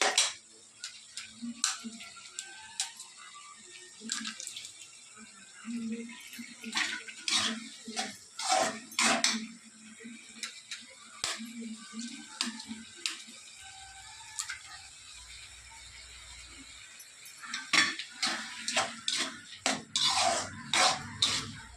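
Eggs beaten in a bowl for a ridge gourd egg stir-fry in a home kitchen; close, quick clicking taps come in irregular bursts, with a faint murmur in the background.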